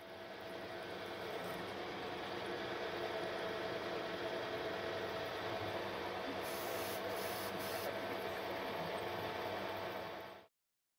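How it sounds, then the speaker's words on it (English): Milling machine fitted with a drill chuck boring a series of holes into a workpiece in a workshop, a steady, loud motor drone with grinding, rubbing cutting noise running continuously for about ten seconds before stopping abruptly. "the milling machine is now used to drill a number of holes into the workpiece."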